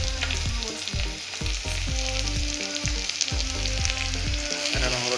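Ginger and garlic paste frying in hot oil in a pan for an Assamese mutton curry, a loud steady sizzle with crackling bursts and occasional stirring scrapes, close and continuous.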